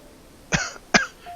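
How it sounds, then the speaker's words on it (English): In the video game Soul Gambler, a man gives two quick, heavy coughs, close and harsh with a short pause between them, against quiet background. "The coughing was heavier this time."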